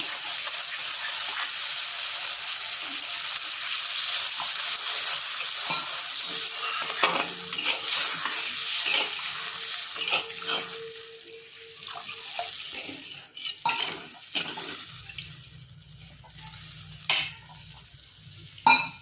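A pan of spiced gravy for a vegetarian eggplant dish bubbles and sizzles after water is added to oil-released fried spices, a steady close simmering hiss with occasional stirring clinks, no talk.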